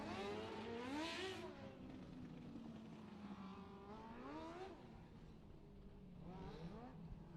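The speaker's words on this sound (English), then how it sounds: "Cars rolling out on the racetrack now" IMCA Mod Light race cars roll onto a dirt racetrack, engines revving and rising in pitch in several separate passes, distant and fairly faint with no voices.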